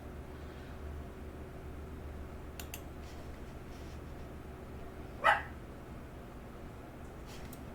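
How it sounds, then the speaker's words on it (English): A dog lets out one short, sharp bark in the background of a quiet room during a remote court hearing. A steady low hum fills the rest of the clip. "Sorry, that's my dog."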